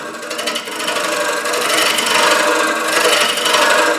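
A gouge peels wood from a spinning bowl blank on a lathe, giving a continuous loud rasping, chattering cut that swells and holds steady up close.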